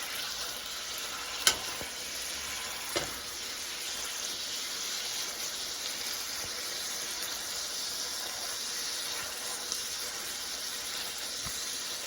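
Smash burger taco cooking in a pan on an electric stove, a constant low sizzle with a couple of sharp clicks or taps early on, no voices.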